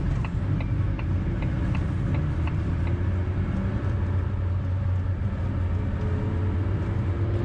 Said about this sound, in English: Just gonna wait for this car to go past